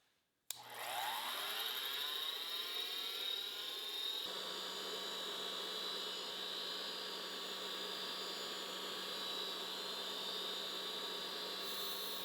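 A grinding wheel mounted on a lathe spins up with a rising whine, then runs steadily as a loud, continuous high-pitched grinding hum with a bright, harsh edge, alone and unbroken throughout.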